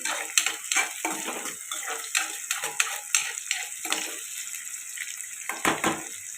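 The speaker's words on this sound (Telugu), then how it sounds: "ఉల్లిపాయలు ముక్కలు బాగా ఫ్రై అవ్వాలండి ఉల్లిపాయలు ఇలా ఫ్రై అవుతున్నాయి కదండి" Chopped onion pieces and green chillies frying in a pan for a dhaba-style paneer matar curry, a close bubbling sizzle with irregular pops and crackles throughout, no voices.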